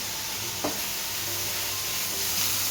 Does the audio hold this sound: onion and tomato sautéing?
yes